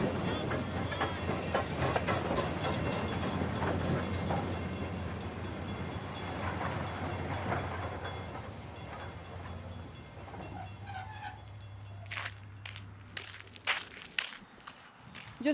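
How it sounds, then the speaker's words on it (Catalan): A passenger train rolls into a station beside a greenway rail trail in Girona, a steady low rumble and rail noise building under light footsteps, then easing off near the end as sharper clanks and thuds break through. "Ei, ja arriba el tren."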